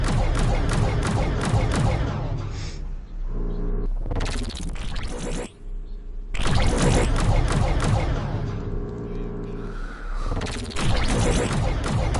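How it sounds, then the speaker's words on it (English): Dense gunfire rattles through a VR shooter game, with loud sustained bursts and booming volleys that pause briefly before resuming, filling the whole stretch. "There's so much shooting going on."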